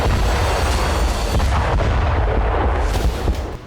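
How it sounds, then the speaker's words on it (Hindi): Heavy blast roar from an explosion at a missile base after a drone strike, a dense continuous rumble with crackling bursts filling the whole stretch, loud and close, no voices. "ईरान के आसमान में अचानक कुछ ड्रोन दिखाई दिए और फिर जोरदार धमाका हो गया।"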